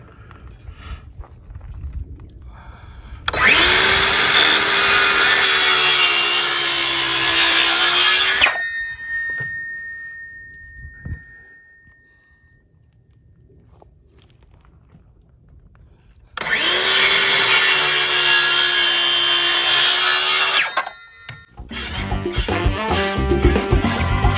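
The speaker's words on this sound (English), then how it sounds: "cut halfway into this 4x4 and make a half lap joint" A power saw whines through a wooden 4x4 post in two long cuts of about five seconds each, separated by a quiet pause, with some clattering at the end.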